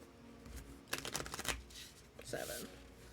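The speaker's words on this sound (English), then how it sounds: "And last shuffle." A deck of playing cards is shuffled up close during a casual card-drawing session, with a quick riffle burst followed by a softer second shuffle and a brief bridge, heard at low volume.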